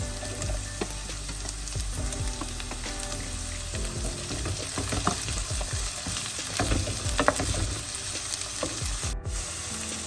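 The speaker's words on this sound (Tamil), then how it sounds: "உருளைக்கிழங்கோடைய இதை நான் சேர்த்து வதக்க போகிறேன்" Potatoes and green chillies sauté in a pan for a vegetable rice dish, sizzling loudly and continuously at close range while a spatula stirs and scrapes through them.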